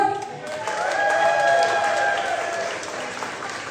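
Comedy club audience in Peterborough applauding steadily after a stand-up set, a dense wash of clapping that swells and holds, with a faint voice and a few whoops over the crowd.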